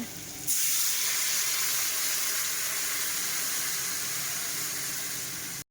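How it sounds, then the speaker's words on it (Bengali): Water poured over fried potatoes in a hot pan, coated with salt and turmeric, bursts into a loud, steady hiss after a brief moment of quiet and keeps sizzling evenly close by, with no voices. "এইবারই আমি জল দিয়ে দেবো এটার মধ্যে"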